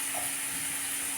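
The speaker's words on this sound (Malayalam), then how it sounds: "അരിഞ്ഞ് വെച്ചിരിക്കുന്ന വെജിറ്റബിൾ ഇട്ട് ഇളക്കി കൊടുക്കാം" Chopped vegetables frying in a pan as they are stirred, a steady bright sizzle and hiss with faint scraping, moderately close and without talk.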